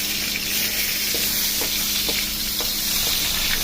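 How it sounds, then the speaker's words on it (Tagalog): Onions sizzle in hot oil alongside garlic in a pan for chicken with bitter melon, a close, continuous crackling hiss with faint scraping stirs. "Sa mainit na ang oil, ilagay na rin ang ating sibuyas."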